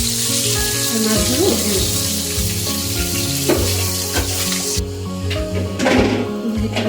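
Pieces of tilapia fish frying in hot oil hiss and crackle continuously up close, with stirring and a few clinks as the pieces are lifted out, while someone speaks briefly over the sizzle.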